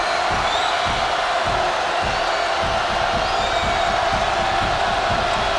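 Large basketball arena crowd of about 7,500 at a UCF home game against UAB, a steady loud roar of cheering and crowd noise filling the whole stretch without a break.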